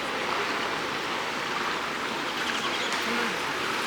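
Waterfalls along the San Antonio River Walk pour in a steady, broadband rushing wash of falling water, continuous and fairly close, with no talk over it.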